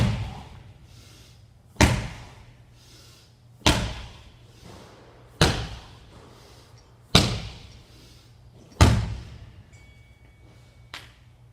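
A weighted exercise ball is slammed down to the floor in a workout, six heavy booming thuds at a steady two-second rhythm, each ringing briefly before the next, with a lighter seventh impact near the end.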